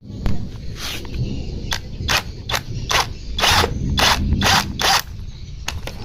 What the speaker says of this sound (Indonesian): Kalau pakai impact enak,